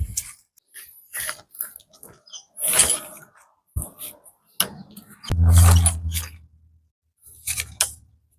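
Sharp mechanical clicks and snaps in bursts as the legs of a Mountainhiker auto dome tent extend, rustling between, ending in a louder clattering ratchet, close by.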